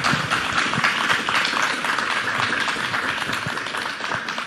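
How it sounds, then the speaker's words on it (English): Sustained, dense audience applause for outstanding students being presented with certificates, steady and fairly loud for several seconds with no talking over it. "Let's give a round of applause to these outstanding students."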